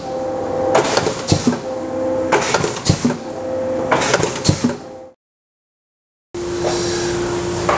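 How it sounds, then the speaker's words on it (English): A sausage stuffer and chub machine fills chubs with ground pork from a 300 lb hog, giving repeated whirring mechanical bursts with clunks, then a brief stop and a steadier motor hum. "We stuff our sausage into chubs with this stuffer and chub machine."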